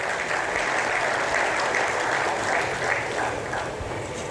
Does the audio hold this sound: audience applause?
yes